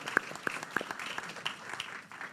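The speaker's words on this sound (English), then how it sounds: "Give yourselves a round of applause." Scattered audience applause at a comedy evening, a few sharp distinct claps standing out over a soft, thin patter of hands, moderately quiet and brief.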